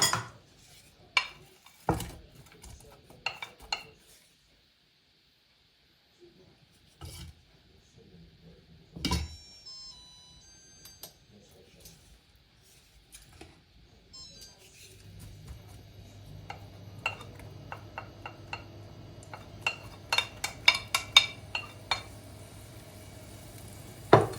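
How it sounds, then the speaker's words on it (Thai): Shallots go into a pan of oil for pad thai sauce. Scattered clinks and scraping come first, then a steady low sizzle of frying rises, dotted with stirring taps and utensil knocks. "เราใส่หอมแดงลงไปเจียวเลยค่ะ"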